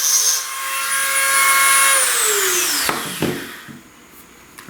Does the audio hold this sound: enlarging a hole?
yes